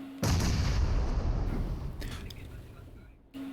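Gunfire during a PUBG Mobile esports match, a dense rattling burst of rapid shots that is loud and sustained for about three seconds, then cuts off abruptly.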